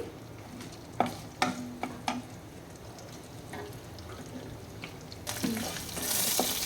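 Garlic frying in a pan with chillies for a cucumber-tomato chutney: a few sharp spatula taps and stirring scrapes, then a loud, bright sizzle swells up near the end as the garlic hits the hot oil.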